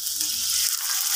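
Liver and meat for menudo frying in a pan, a steady close hiss of sizzling oil throughout with faint stirring underneath.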